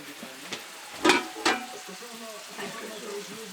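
Onion sizzles in a frying pan with a steady crackling hiss, broken by a few clanking scrapes of stirring near the start and soft faint sounds later.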